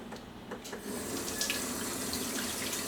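Running tap water splashes steadily over hands being rinsed at a kitchen sink after mixing buttermilk biscuit dough, a continuous close hiss and patter with no talking.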